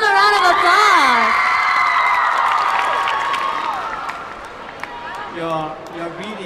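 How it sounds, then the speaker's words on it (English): Audience cheering and applause at the Cheer-O-Mania 2011 cheerleading finals in Singapore, loud whoops and screams over clapping, then a brief rise of shouting near the end. "Give them a round of applause."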